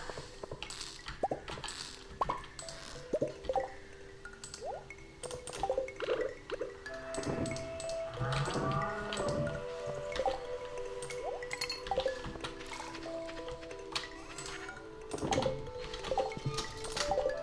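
Cactus being watered in the farming video game Stardew Valley: light dripping and splashing game sound effects among soft chirps and busy ambient game noise, with no talking.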